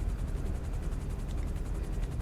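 A helicopter in the video game GTA Online gives off a quiet, steady rotor chop, rapid even pulses over a dull broadband whir that stays at a constant level throughout, with no talking.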